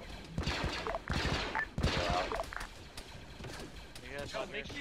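Clone troopers trade gunfire in a Star Wars clone battle game, sharp bursts of shots and impacts popping repeatedly while players talk tensely over the action.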